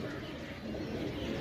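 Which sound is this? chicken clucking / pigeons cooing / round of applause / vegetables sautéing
pigeons cooing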